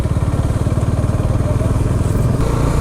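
A Bajaj Dominar 400 motorcycle is ridden at steady speed, its engine giving a loud, continuous throbbing rumble with a rapid, even pulse throughout.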